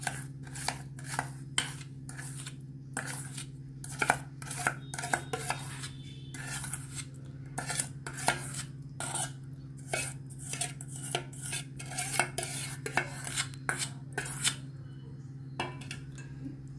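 Chocolate cake batter of flour, cocoa powder, coffee, refined oil and sugar is mixed in a bowl, with a spoon clinking and scraping against the sides in quick irregular strokes over a low steady hum.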